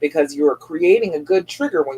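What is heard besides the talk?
No everyday noise stands out behind the speech.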